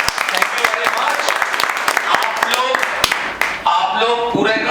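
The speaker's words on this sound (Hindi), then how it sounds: "सो पहले एक बार ग्रांड सैल्यूट, तालियां दे दो भैया।" Students in a classroom clapping together in a dense, sustained round of applause, with mixed voices and cheers over it, close and fairly loud throughout.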